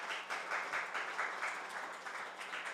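A church congregation applauds to welcome a pastor to the front. The clapping is a soft, steady wash from many hands, heard at a distance with a gentle, continuous texture.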